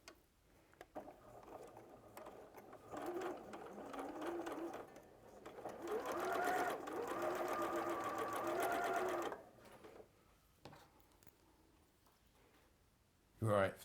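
A sewing machine chain-pieces fabric in quick bursts, its motor whirring and needle rattling steadily for several seconds before stopping, fairly quiet and close, with a few faint clicks before and after.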